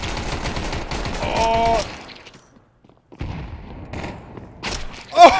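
Pistol shots from a P2000 in a video game, a rapid burst of sharp cracks followed by a brief quiet stretch, then more shots and an excited voice exclaiming.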